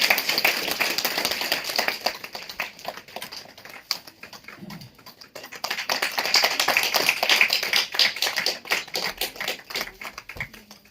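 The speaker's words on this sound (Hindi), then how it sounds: "जोरदार तालियां बजाएंगे" Welcoming applause from a small gathering at a class, greeting a guest with tilak and bouquet: quiet, irregular patter of hands that swells and dips across the stretch, heard fairly distant.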